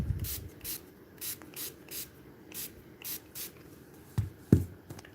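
A cat toy is sprayed in a series of short, close hissing bursts, about a dozen quick pumps in an irregular rhythm, with a couple of light handling knocks near the end and no talk.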